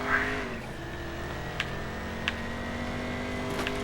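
A race car in Race Driver: GRID brakes into the first turn of lap one, its engine note dropping in steady tonal lines, with faint tire scrubs and clicks as it slides, no voices.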